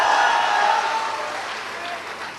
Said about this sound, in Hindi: पीछे से ताली बजा रहल बा